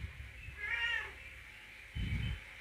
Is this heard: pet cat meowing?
yes